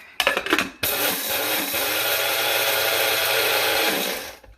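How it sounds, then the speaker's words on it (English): Blender grinding flaxseed and chia seeds, starting with a few short stuttering pulses and then running continuously at a loud, close, steady whir before cutting off. "We're going to go ahead and grind up the flaxseed with those chia seeds real quick."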